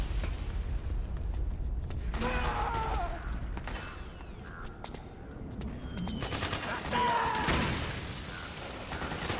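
Gunshots and bursts of fire in Metal Gear Solid 4: Guns of the Patriots ring out at moderate loudness, mixed with clanking mechanical noises and sharp impacts, with a short lull before another cluster of shots.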